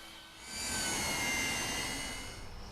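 An E-Flite RV-7 RC airplane makes a full speed pass at sunset in near-calm air, its high-pitched electric whine swelling quickly to a steady loud peak and holding before easing slightly as it passes.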